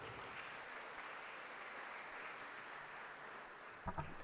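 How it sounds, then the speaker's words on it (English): Faint, steady applause from the audience at the Odyssey IP 25th Anniversary Awards Gala as Craven Cawthron walks to the podium, an even wash of clapping throughout, ending in a couple of brief louder bumps. "Let's all clap our hands for Craven Cawthron as he make it to the podium"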